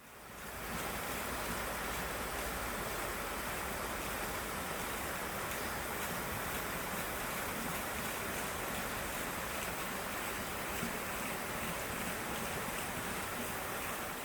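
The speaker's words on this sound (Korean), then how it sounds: "잠시 물소리를 감상할까요?" Steady broadband rush of water flowing through a valley stream near a water wheel, constant and even for the whole stretch, with no voices.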